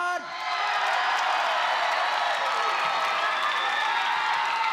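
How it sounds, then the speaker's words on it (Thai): A Thai boxing arena crowd cheers and whoops loudly and continuously ahead of the judges' scores, a dense wall of voices that swells quickly after a brief pause at the start and holds steady. "ผมขอเสียงเชียร์อีกครั้งหนึ่งก่อนประกาศ"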